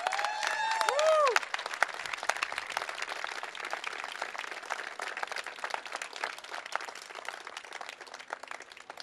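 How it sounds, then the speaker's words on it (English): An audience applauds a person named Teresa at a Lexington political gathering, dense steady clapping with a few whoops and cheers early on, sustained for several seconds at moderate loudness. "Let's give Teresa a big round of applause"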